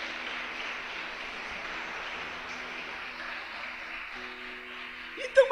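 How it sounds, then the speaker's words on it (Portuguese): A church congregation applauds during a worship service, a steady, diffuse wash of clapping at moderate distance that holds evenly throughout before a brief louder burst at the end. "Você pode aplaudir o Senhor"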